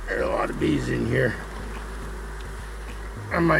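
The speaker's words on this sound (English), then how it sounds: "Yeah, there are a lot of bees in here." Honey bees buzz steadily inside an open hive during frame inspection, a continuous mid-level hum under intermittent speech from a beekeeper.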